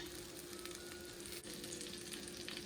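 Bread slices frying in butter for French toast, a steady, close sizzle with faint stirring crackle running evenly throughout, no voices.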